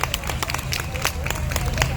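Clapping from a concert crowd at a Hong Kong pop culture festival forms a continuous, dense patter of hand claps that holds steady for the whole stretch.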